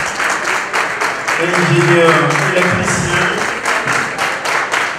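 Audience applause at the 2023 Panafrican Corporates Awards ceremony in Cotonou, a steady patter of clapping across the whole stretch, running under a voice speaking over the crowd.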